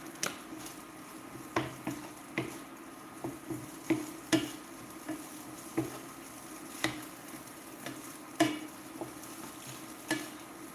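Steak bites frying in a pan give a steady low sizzle broken by regular sharp knocks and scrapes of a utensil stirring them, fairly quiet and close, with no voices.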